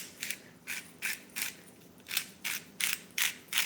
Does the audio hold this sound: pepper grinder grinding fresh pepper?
yes